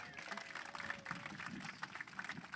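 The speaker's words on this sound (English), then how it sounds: "let's hear one nice round of polite applause" A polite round of applause for a swimming hall of fame inductee, dense and even clapping from an audience, fairly quiet and steady, with voices mixed in underneath.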